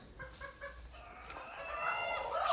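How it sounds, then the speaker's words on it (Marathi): Free-roaming village hens in the Konkan cluck in a quick series of short calls, then a rooster starts a loud crow nearby that builds toward the end. "तर हे सर बघू शकता कसे कोंबडे फिरतात होत"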